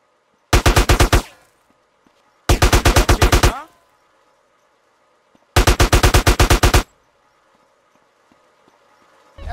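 Three loud bursts of rapid automatic gunfire in GTA San Andreas Definitive Edition, each lasting about a second, with short quiet gaps between them and no talk.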